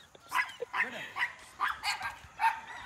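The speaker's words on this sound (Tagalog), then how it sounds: "Mahilig din kami sa aso, kaya huwag mo kami kakagatin na." A dog at a Philippine game farm barks in a quick run of short yips and bow-wows, fairly close and moderately loud, mixed with people talking nearby.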